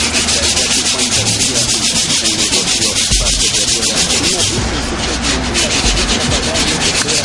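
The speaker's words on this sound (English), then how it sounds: "now we're sanding them with some 80 grit" Coarse 80-grit sandpaper scrubs filler on a kitchen sink back and forth continuously, a loud, close, gritty rasp with a steady rhythm throughout.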